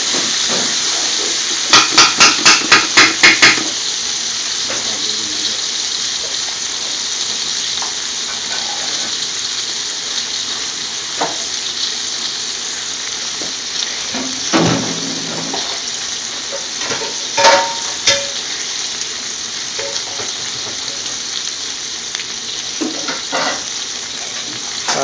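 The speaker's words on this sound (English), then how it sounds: "Give it a good mix, mix the old spice together." Spices frying and sizzling in a pan for a scotch bonnet sauce in Indian restaurant-style cooking, a steady hiss broken by rapid clicks early and occasional louder stirring scrapes, close up with no voices.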